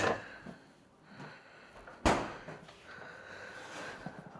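A kitchen fridge door swings shut with a single sharp thud midway through, set among quieter handling noises and rustles nearby.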